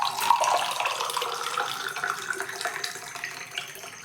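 Water runs steadily from a kitchen tap into a pot, about three glasses' worth for cooking rice, as a continuous close splashing gush with no talk.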